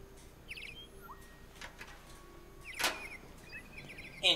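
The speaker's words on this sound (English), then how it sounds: "Android birds too, okay." Synthetic android birds in Detroit: Become Human give a few sparse, faint chirps and tweets over a quiet game ambience, with one sharper burst near the end.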